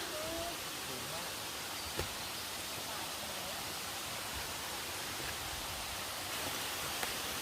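Mountain waterfall in the Khun Tan range pours with a steady broadband rush, continuous and fairly distant, with faint voices now and then beneath the water's hiss.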